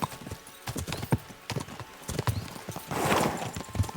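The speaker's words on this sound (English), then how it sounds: "We should spur the horses on!" In the video game Kingdom Come: Deliverance 2, rhythmic clip-clop of horse hooves at a gallop, fairly close, with a horse whinnying partway through over a busy, noisy background.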